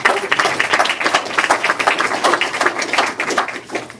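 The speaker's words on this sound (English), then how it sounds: "now please give Jim a round of applause" A room full of people gives a round of applause to welcome a painter before his presentation, dense rapid clapping that stays loud and steady throughout, close and without talk.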